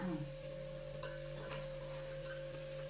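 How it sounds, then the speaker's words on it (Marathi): Soaked peanuts being stirred in a pan while preparing Maharashtrian bhogi bhaji, a soft scraping stir with faint sizzling over a steady low hum, no talking. "आता परत जरा मिक्स करून घेणार."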